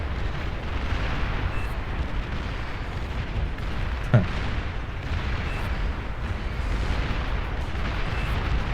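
Units are destroyed in the Beyond All Reason strategy game amid a dense, continuous rumble of explosions and artillery-like booms, with one sharper blast standing out near the middle.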